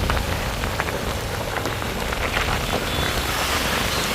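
Heavy rain pours down outdoors as people crowd under shelter, a dense, loud and continuous hiss of drops hitting surfaces with no pauses and no voices.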